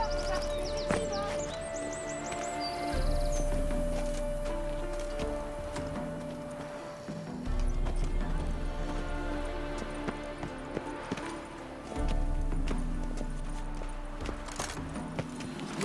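Roach, the horse in The Witcher 3, gallops with a steady run of hoof clip-clops beneath continuous background music, with no one speaking.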